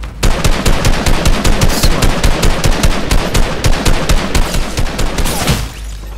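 Rapid automatic gunfire in the Fortnite video game, a loud, close, sustained burst of evenly spaced shots lasting several seconds before cutting off, with no voices over it.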